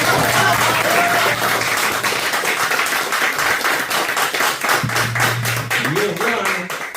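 Loud, sustained audience clapping fills a comedy stage show for its full length, a dense steady patter with a low hum and a few voices briefly audible beneath it.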